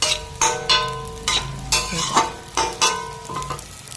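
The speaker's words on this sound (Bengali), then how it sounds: "এবার নেড়ে চেড়ে নামিয়ে দেবো।" Dry Amudi fish curry is stirred in a hot pan just before coming off the heat, with about eight rhythmic scraping strokes of a spatula over a soft close sizzle.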